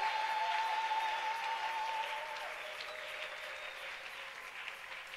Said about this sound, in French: Est-ce que tu peux encore acclamer?